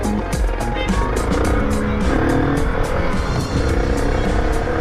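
A motorcycle accelerates hard on the road with a loud, continuous engine roar that rises through the gears, heard close up from the rider's position.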